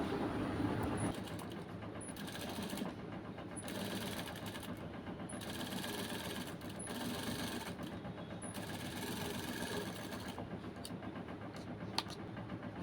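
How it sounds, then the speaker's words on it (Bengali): An industrial sewing machine runs steadily while top-stitching parts of a shirt, a continuous mechanical whir with brief pauses and restarts between seams, close and fairly loud. "এখন আমরা এটার উপরও একটি চাপ সেলাই বসিয়ে দেবো"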